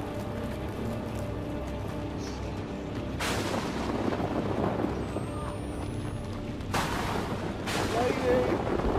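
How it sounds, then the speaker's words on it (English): A thunderstorm in the horror video game Outlast 2: steady rain and wind are broken by several sharp, loud thunder cracks, with voices heard faintly under the storm. "Lightning's everywhere! It's cold! It's cold! Keep moving! Jesus! Fuck! The storm's getting worse!"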